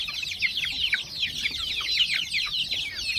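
Desi chickens clucking close by as they peck at vegetables in a free-range garden area, a dense, busy run of short overlapping clucks and chatter that continues steadily throughout.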